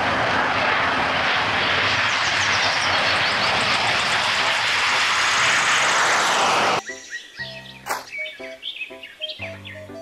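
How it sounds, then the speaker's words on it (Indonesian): Toy fighter jet with a loud, steady roaring jet-engine whir for about seven seconds, then cutting to a series of short electronic chirps and tweets. "Pesawat jet tempur."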